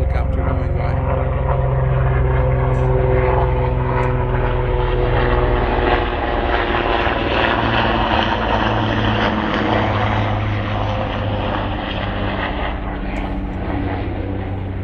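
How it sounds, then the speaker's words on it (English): A helicopter flies by overhead, a loud, continuous droning rotor and engine rumble that holds steady throughout, with a person talking faintly underneath. "There's a helicopter going by."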